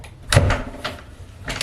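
A jammed door rattles and knocks as it is forced during a flooring job in a laundry room, with several sharp thumps and clatters in quick, uneven succession, close by.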